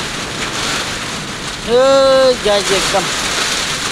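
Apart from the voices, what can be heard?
heavy rain in Kailali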